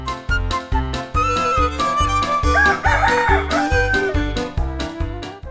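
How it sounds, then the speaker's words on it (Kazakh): A cartoon rooster crows loudly and alone over a steady, pulsing musical beat, in a Kazakh animated folk tale. "Әтеш байқұстың жан даусы шықты."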